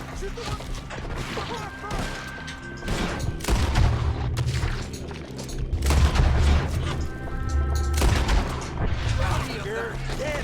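Rapid gunfire and booming shots in Red Dead Redemption 2, a dense shootout of cracks and blasts layered over game music, with players talking over the action throughout.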